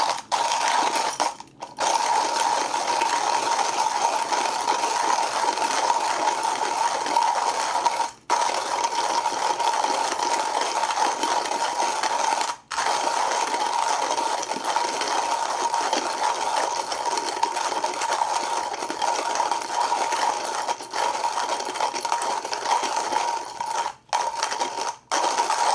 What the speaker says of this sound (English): You know, these beans are pretty easy to grind.